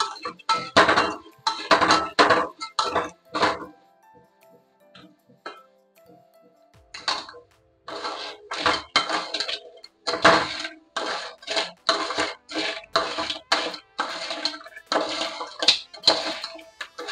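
Crab roast being stirred and mixed in a pan, with repeated bursts of scraping and clinking from a spoon against the metal, pausing briefly midway before resuming in a steady rhythm.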